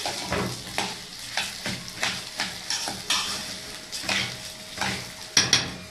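Vermicelli and rice fried and stirred in a pot for koshari, a steady sizzle broken by rhythmic scrapes and clinks of a spoon against the pot, close and clear with no talking.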